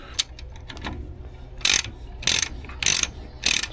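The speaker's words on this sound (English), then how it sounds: "gradually tighten each side bit by bit" Spring compressors on a 1995 Ford EF Fairmont suspension strut tightened with a ratchet: a few close, crisp bursts of rapid pawl clicking, spaced by short pauses, with no talk.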